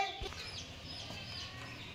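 A hen makes a few soft clucks at close range, faint and short, set against low background noise.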